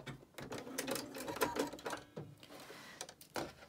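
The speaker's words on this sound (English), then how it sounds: "back stitch." Sewing machine stitching back and forth while making a face mask, a soft mechanical whirring in short runs with brief stops, quiet and close, no talking.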